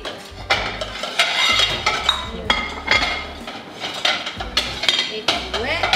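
Two plates and cutlery clink and clatter repeatedly in quick, irregular bursts, close by in a kitchen, with faint kitchen bustle in between.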